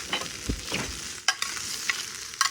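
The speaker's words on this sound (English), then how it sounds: "You go ahead and mix it real quick." A spoon stirs a mixture quickly in a container, producing scraping swishes and a few sharp clinks against the sides, close up with irregular rhythm and no speech.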